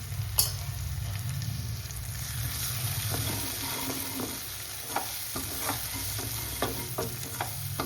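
Spices fry with potatoes and green beans in a pan, a steady close sizzle broken by repeated scraping stirs of a spoon, with no talking.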